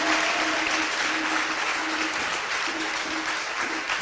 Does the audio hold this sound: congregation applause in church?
yes